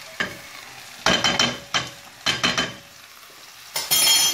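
Chopped onions with a spoonful of tomato paste stirred in a hot pan for mallow sauté, giving repeated bursts of spatula scraping and sizzling with brief quiet gaps between strokes.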